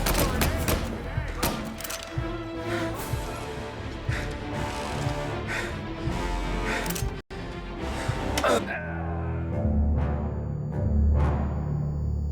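Gunfire in a shootout from the video game Mafia: Definitive Edition, with loud rapid bursts and sharp cracks, nearby, mixed with game voices and background music.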